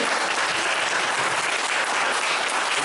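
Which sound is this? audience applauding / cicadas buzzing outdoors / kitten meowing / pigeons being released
audience applauding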